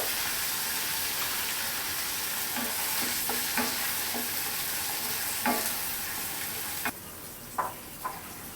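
A paste of ground vegetable peel with turmeric and salt is stirred as it fries, a steady sizzle under repeated scraping strokes of the spoon, close and moderately loud with no talking.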